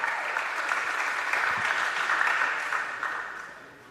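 A college gym crowd at a women's volleyball match applauds graduating players, with sustained, even clapping and a few cheers, fading gradually toward the end.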